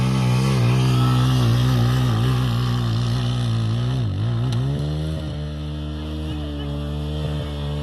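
A motorcycle engine whines loudly at a local motorcycle race in Khadir district, Daykundi, Afghanistan, its pitch sliding up and down as it revs and shifts, passing nearby with a fading drone toward the end.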